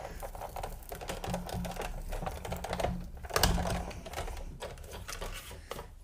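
A Big Shot die-cutting machine hand-cranked to roll paper and a cutting plate through, giving a continuous close grinding, rattling clatter for several seconds with a slightly louder surge partway through, no talking.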